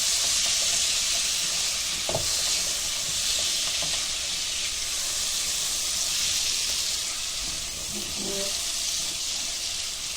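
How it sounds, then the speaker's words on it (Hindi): Tomatoes frying on a low gas flame for kokani bhindi, a continuous close sizzle and hiss with a few soft stirring knocks, no talk. "जरा टमाटे को भुनेंगे, बारीक गैस पे भून रहे हैं"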